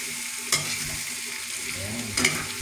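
Pakbet, a Filipino mixed-vegetable dish, is stirred in a pan, with a steady low sizzle and two sharp scraping clanks of the utensil against the pan.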